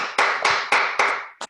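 A small audience at a book presentation claps in a few sharp, reverberant bursts that fade quickly, ending with one last short clap.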